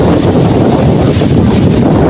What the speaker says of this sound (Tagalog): Grabe yung hangin, guys